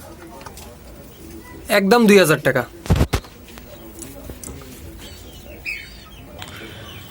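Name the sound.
Sylheti Bicchu pigeons cooing and flapping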